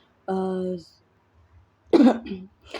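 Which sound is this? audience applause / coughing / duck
coughing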